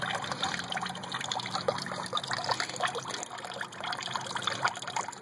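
Water trickles and splashes from an overflow line on an aquaponics system, a steady, soft, bubbling dribble heard close and alone, with faint irregular droplet spatters throughout.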